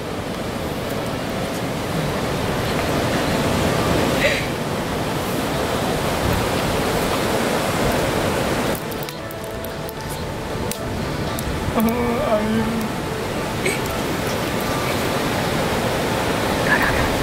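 Algae being rinsed under running tap water, a steady broadband wash of flowing water that continues throughout, briefly dipping and then resuming, with no talk.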